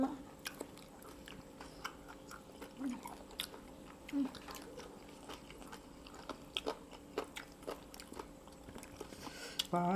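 Som tam eaten with fish-sauce fried chicken wings: close crunchy bites and steady chewing with scattered sharp clicks, fairly quiet, continuing for the whole stretch without talk.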